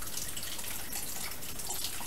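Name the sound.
water dripping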